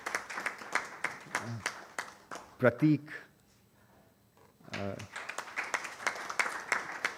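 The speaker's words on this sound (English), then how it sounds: "give her a big round of applause" An audience at an international G20 conference breaks into a round of applause, a series of crisp claps that briefly stops for a spoken name before resuming.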